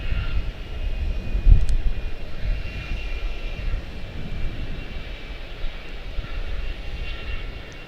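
United Express regional jet at Charlotte-Douglas International, a sustained close engine roar with a low rumble and a faint high whine, loudest early then holding steady, without speech.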